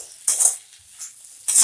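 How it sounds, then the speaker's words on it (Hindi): A spoon scrapes and clinks against a pan while stirring dry okra stir-fry (bhindi sabzi), two short close bursts separated by a quiet pause. "तो अब हम इसे अच्छे से मिक्स कर लेंगे।"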